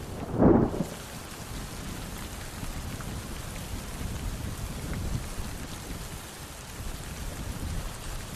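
Autumn rain falls over grasslands as a steady, even patter. A deep rumble of thunder booms near the start, and no voices are heard.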